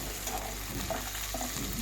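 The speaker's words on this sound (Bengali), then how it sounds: "তো আলু আর গাজর আমি হালকা করে ভেজে নিব।" Potato and carrot pieces fry lightly in a pan with a soft, steady sizzle and faint stirring noises, quiet and close, with no talking.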